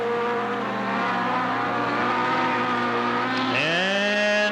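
Race car at a speedway engine roaring steadily after a spin-out, then revving sharply upward as it pulls away, loud and close, with no talk.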